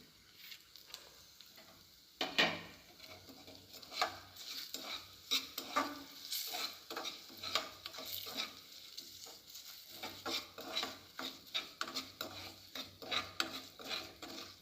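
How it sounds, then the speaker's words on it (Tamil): Sugar and turmeric caramelizing in a pan for a crispy chivada mixture, a spoon scraping and stirring in steady repeated strokes over a soft sizzle, close and fairly quiet with no talking. "சர்க்கரை நல்லா கொஞ்சம் கேரமலைஸ் ஆகணும். கலரிட்டே இருங்க, இல்லைன்னா அடி பிடிச்சிரும்."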